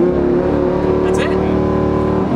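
A Lamborghini engine revs hard under launch control and holds at a high, steady pitch around 4,500 RPM, loud and close, with a brief rising whine partway through.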